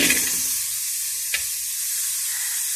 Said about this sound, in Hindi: सबसे पहले मैं प्याज डाल रही हूँ बर्तन में